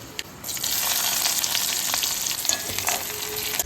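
Mustard seeds and a little chopped onion fry in hot oil, giving a close, continuous sizzle with light crackling pops and occasional stirring scrapes.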